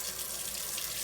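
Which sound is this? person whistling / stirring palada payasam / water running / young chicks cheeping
water running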